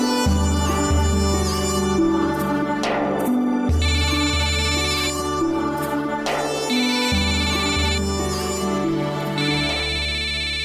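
A phone ringtone loops a bright, repeating electronic melody, loud and steady throughout, in a Gujarati TV serial family scene with no one speaking.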